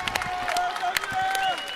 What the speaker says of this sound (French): Je voudrais que vous vous leviez et que vous applaudissiez bien fort